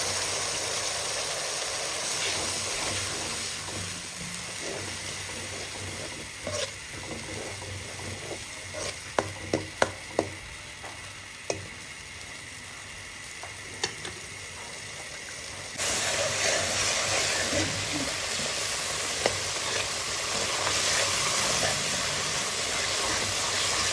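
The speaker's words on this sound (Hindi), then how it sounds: "ये मसाला मैं बहुत अच्छी तरह से भून रही हूँ" Ground chilli and browned onion masala fries in a pan for paya, a steady close sizzle with scattered stirring scrapes and clicks, growing louder and denser toward the end.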